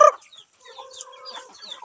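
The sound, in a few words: Palawan native chickens clucking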